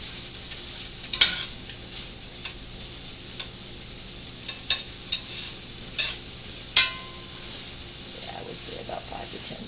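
Green beans and onions stir-fried over high heat in a pan, giving a steady hiss with scattered sharp clicks and taps of a utensil against the pan.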